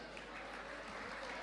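Sustained audience applause fills a hall at a motivational event in Bengaluru, a steady dense wash of clapping with no gaps across the whole stretch.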